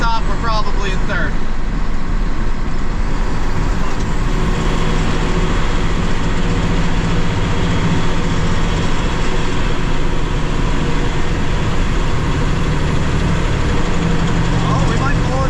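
A farm truck's engine labours up a hill in fifth gear, a steady loud drone with rumbling road and cab noise that holds constant throughout, close and continuous with no talk.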